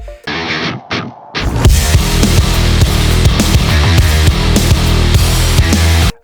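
Loud, driving heavy metal boss music from the game Doom, with pounding drums and thick distorted guitars, kicking in after a short stuttering start.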